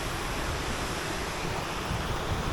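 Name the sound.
flowing river water in Lathkill Dale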